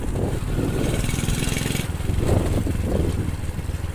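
Motorcycle ridden along a rough, bumpy road, its mid-pitched engine droning steadily and close throughout, with broadband rumble and rattle from the uneven surface rising and easing in waves.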